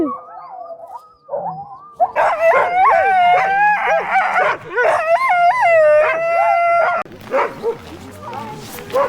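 Husky sled dogs at a sleigh-ride kennel in Rovaniemi, Finland, howling and yipping in a loud, overlapping chorus with rising and falling wails, barks and whimpers close by, while people talk over them.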